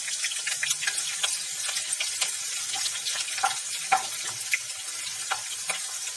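Onions browning in hot, smoking oil for Kashmiri sour brinjal give off a steady, close sizzle dotted with small pops and crackles throughout, with no talking.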